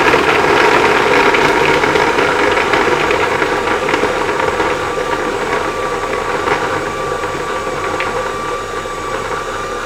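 A Multipraktik food processor running at its highest speed and grinding food, a loud, steady motor whir with rattling and clattering of pieces knocking around the bowl, continuous and close throughout.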